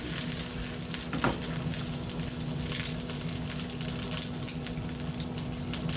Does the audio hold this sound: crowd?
no